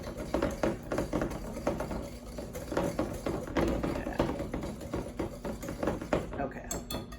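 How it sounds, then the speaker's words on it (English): Eggs and sugar are being whisked by hand in a bowl until creamy, a steady run of quick, close clicking and scraping strokes continuing throughout with no pause. "You're supposed to get it creamy, so I'm gonna keep whisking it."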